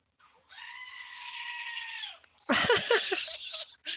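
A goat bleats from an Alexa goat compliments skill on a smart speaker: one long, wavering, nasal bleat up close, then a burst of loud, strained, screaming bleats right after a short pause.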